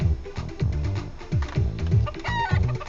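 Chicken clucking comes from a mini-game in an RPG Maker VX Ace casino area, with rhythmic repeated clucks at a steady pace and a brief crowing-like squawk near the end, and no talk.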